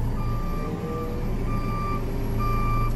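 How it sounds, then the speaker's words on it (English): A JCB 541-70 telehandler's reversing beeper sounds a steady, evenly spaced series of loud electronic tones over a constant low engine rumble. "Got a beeper so everyone knows we're backing up."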